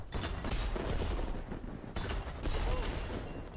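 Several loud, close gunfire bursts go off in Worms W.M.D., a repeated gun firing in rapid blasts with a brief gap between two volleys, each trailing into a noisy rumble.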